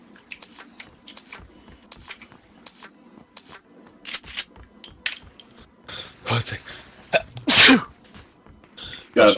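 A single sharp sneeze bursts out near the end of a stretch of casual chatter among friends playing PUBG, loud and close amid clicks and small handling noises.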